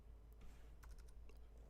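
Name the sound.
typing on a computer keyboard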